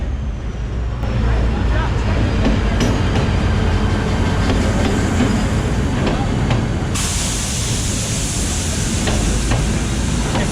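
Inside a moving Egyptian passenger train, a loud continuous rumble and hiss of the carriage runs steadily throughout, with a brighter rushing noise swelling in partway through.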